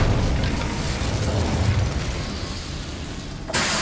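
Fire spell cast in Hogwarts Legacy, a roaring, whooshing burst of flame with rumbling low end that holds steady for several seconds before cutting off, followed by a brief new burst of noise.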